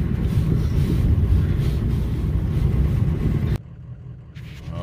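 A truck drives in two-wheel drive along a freshly plowed road in 20-below cold, giving a steady, loud engine-and-road rumble mixed with wind buffeting that drops abruptly to a much quieter drone near the end.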